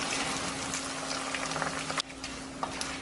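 Salted fish frying in hot oil until dry and crisp, a steady close sizzle with scattered pops and crackles and a faint constant hum underneath, no voices.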